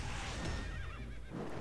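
A horse whinnies in the Epic Seven mobile game, a long, wavering neigh rising and falling over a dense layer of game sound effects, loud and close.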